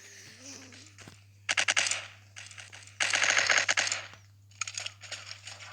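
Rapid automatic gunfire from the blocky online shooter Block Strike comes in several sharp bursts of differing length with short gaps between them, loud and close over a steady low hum.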